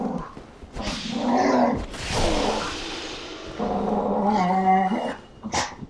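Dogs growl and bark in the Dark Souls video game, a close, rough snarling broken by short yips and barks, loud and fairly continuous over several seconds with no speech.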